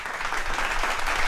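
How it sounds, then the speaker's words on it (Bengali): Loud, steady applause from a studio audience for a contestant named Bonnie, a dense continuous wash of clapping that holds at full strength throughout with no talk over it. "এটা জোরে হাততালি বনির জন্য।"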